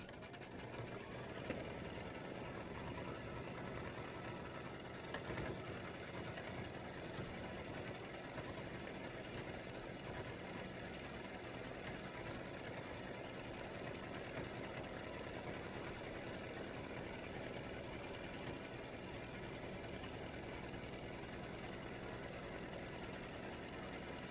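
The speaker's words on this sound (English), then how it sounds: "we're off to do the satin stitching around the great state of Virginia" An embroidery sewing machine runs continuous satin stitching on a Virginia state design, a rapid steady mechanical chatter with a whirring motor that stays even and close throughout, with no talking.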